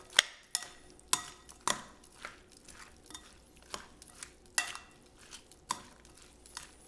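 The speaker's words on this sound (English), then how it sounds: "And we're just stirring it up here." Salad and dressing are stirred and tossed in a bowl, with a utensil clinking and scraping against the bowl in irregular close taps over a soft wet mixing sound, with no voices.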